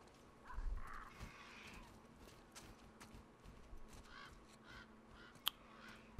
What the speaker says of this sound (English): bird scared the shit out of me